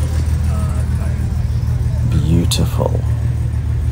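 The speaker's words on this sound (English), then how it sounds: "It's a Jaguar E-Type reborn, I do believe." A Jaguar E-Type continuation car drives past at a classic car meet, its engine note swelling briefly as it goes by amid steady road noise, while someone speaks a short word over it.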